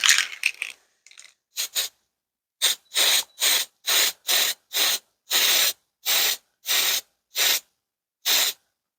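Spray can priming model brickwork on a Walthers Cornerstone State Line Farm Supply kit: a dozen short, sharp hissing bursts, close and loud, with clean silent gaps between them.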